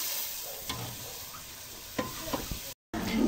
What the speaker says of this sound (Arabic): انا حاطه العدس بتاعي اللي انا ضربته